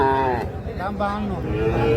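A young bull calf at a busy cattle market lows loudly and close by, giving a couple of drawn-out moos over a low hum of background voices.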